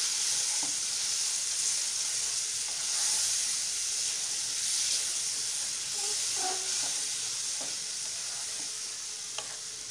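A spice paste sizzles and fries in a hot pan for egg dhoka curry, a steady, close hiss with occasional soft scraping and clinks of stirring, no voices.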